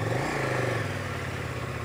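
Motorcycle engine held at steady revs while riding the Trans Euro Trail in Norway, a continuous loud mid-pitched drone with a slight rise near the start and no talk over it.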